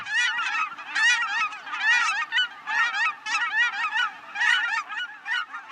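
A large flock of Aleutian cackling geese honking continuously, with dense overlapping calls in rhythmic bursts, loud and fairly near, with no voices.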